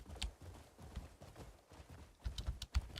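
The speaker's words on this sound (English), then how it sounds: "Maybe we should start riding my horse a bit more" Horse hooves clip-clop at a ridden pace in the Crimson Desert video game, a run of soft, low thuds with a few sharper strikes clustering near the end.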